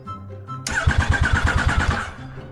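A motorcycle's starter cranks the engine in a rapid, even chugging rhythm for about a second and a half, loud and close, without catching before it cuts off.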